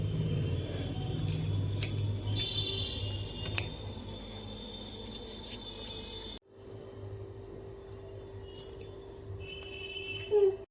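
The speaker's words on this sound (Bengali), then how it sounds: "পেঁয়াজগুলোকে আমি সুন্দর করে ছুরি দিয়ে কেটে নিচ্ছি" A knife slices through soft, charred roasted onions for a Bengali begun pora, a series of close, crisp cutting taps and scrapes on a board, briefly pausing partway through.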